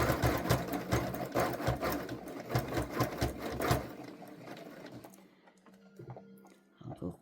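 Sewing machine zigzag stitching over rope, a rapid mechanical chatter of needle strokes close up that stops partway, followed by a quieter stretch with faint handling sounds.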